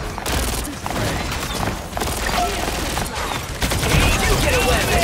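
Continuous rapid weapon fire in Marvel Rivals rattles in dense bursts with booming impacts and effects layered over it, staying loud throughout, with character voices shouting over the action.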